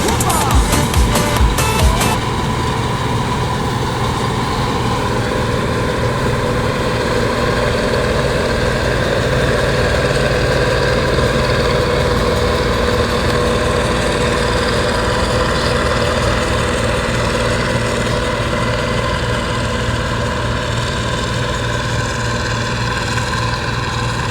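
A Polska 60 tractor engine runs steadily and loud, a deep idling drone with strong low rumble, briefly clattering at the start before settling into a constant heavy hum during harvest work.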